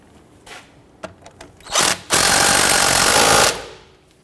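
A power tool, likely an impact wrench, rattles on a flex hose bolt at the strut of a 2006-2014 Honda Ridgeline 3.5L V6, with a few short taps and clicks, then a brief burst and one sustained loud hammering run, close and alone.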